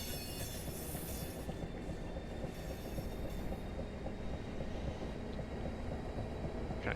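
A train running in the Train Simulator 2020 video game rumbles steadily throughout, with a constant rolling rail roar and faint high squealing from the wheels, loud and close with no talking.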